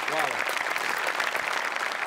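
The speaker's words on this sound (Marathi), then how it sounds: "ते एकदा जोरदार टाळ्या त्यांच्यासाठी झाल्या पाहिजे." Studio audience applause on a Marathi comedy show, a dense, steady burst of clapping throughout, with a voice speaking over it at the start.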